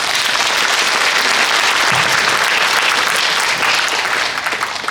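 An audience at an academic history conference applauds a lecture, producing a loud, sustained wash of clapping that carries evenly throughout and begins to thin out near the end.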